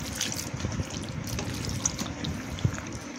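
Water poured into a bowl of tamarind to extract pulp, a steady low trickling splash with a few small clinks, fairly close and continuous.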